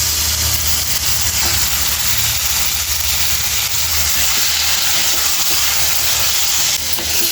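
Chicken pieces for cashew chicken curry hit a hot pan and sizzle in a steady, loud hiss that carries on unbroken throughout, with no talking.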